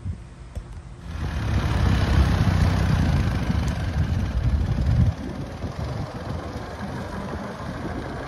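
A 1914 brass era car engine with a Holley carburetor fires up after a brief quiet moment, then settles into a steady, loud idle with a rough low chug that runs on to the end.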